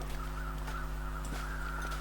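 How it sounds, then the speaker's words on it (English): Crows in the video game The Long Dark give harsh caws over a steady low ambient drone, moderately loud and spread through a short stretch. "Those crows are circling."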